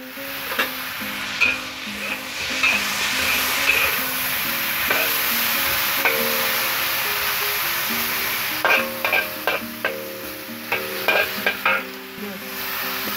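Large prawns sizzling in oil in a covered wok over medium heat, a steady, moderately loud hiss with faint background music, then clattering metallic knocks near the end.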